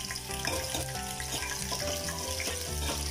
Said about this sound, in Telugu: ఆయిల్ వేడైన తర్వాత పచ్చిమిర్చి వేసుకోవాలి